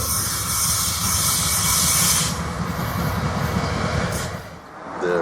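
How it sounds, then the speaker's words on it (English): A steam locomotive on a railroad comes around a bend near a depot, a loud, steady hiss of steam over rhythmic chuffing and rumbling that eases slightly near the end, with no talking. "You may be hearing the locomotive just about yes, now. He's coming around the bend."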